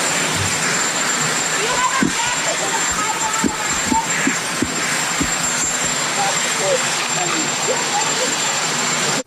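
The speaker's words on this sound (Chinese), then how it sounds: "因为这个陆战队一号的这个直升机的风声很大哦，所以这个收音呢收不大清楚" Marine One's rotor wash roars across the White House South Lawn as a broad, constant wind-like rush with a low helicopter drone beneath it, and voices are partly buried under the noise.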